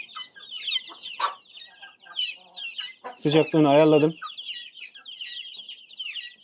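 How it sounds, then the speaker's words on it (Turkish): Chorus of high chirps from two-day-old German Australorp chicks in a warmed brooder, continuous and close, while someone speaks briefly over them. "Bunlar iki günlük civcivler."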